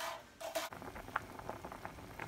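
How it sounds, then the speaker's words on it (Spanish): A pot of water with potatoes coming to a boil, small bubbling pops and gentle burbling at close range, after a brief clatter at the start. "Aquí ya empezó a hervir"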